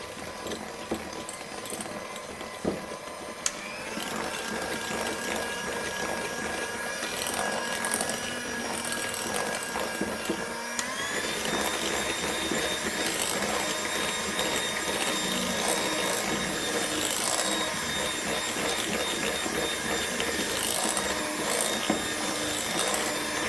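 Electric mixer whipping cake batter with soft room-temperature butter, a continuous close whirring drone that steps up in pitch partway through, running steadily with no talking.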